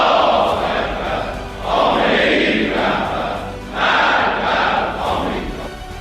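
A large crowd rallies in the streets of Tehran in support of Khamenei, loud massed voices chanting in surging waves that swell and fall repeatedly.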